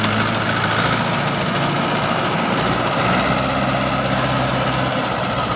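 Mahindra 575 XP Plus tractor running with a 6-foot Sonalika rotavator, its engine a loud, constant close drone with a low rumbling hum that never lets up.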